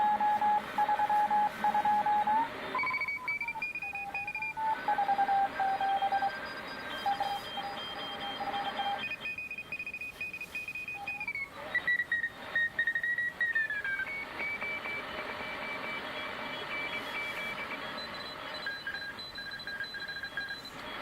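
Tecsun S2000 receiver tuned to the CW section, with steady Morse code tones that shift in pitch over a hissing band of noise, continuous and clear throughout.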